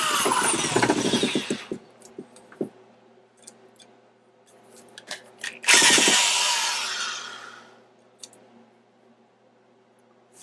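Power drill cutting out a lock cylinder during locksmith training, two loud grinding bursts near the mic separated by scattered clicks and handling noise, the second burst tapering off.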